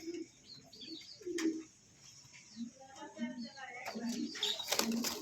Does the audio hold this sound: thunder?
no